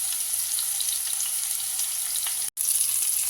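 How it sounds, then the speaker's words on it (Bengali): Pointed gourd pieces coated in salt and turmeric frying in oil in a wok, a steady loud bright sizzle with one brief dropout. "এবার এটা 2-3 মিনিট ভেজে নেব পটলগুলোকে"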